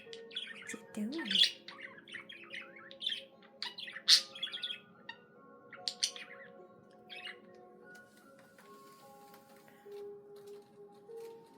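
A budgie chirps, warbles and squawks in quick bursts, close and clear, then its chatter thins into quieter calls.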